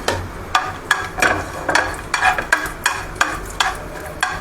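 Barnyard millet roasts in ghee as a spoon stirs it in regular strokes, each pass giving a short scraping rustle about every half second, close and clear.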